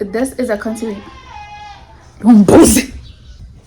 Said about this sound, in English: If you hear goats crying in the background